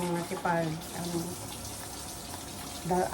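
Tap water running into a kitchen sink while dishes are washed at home, a steady soft splashing stream under a woman's chatter, with brief clinks between her words.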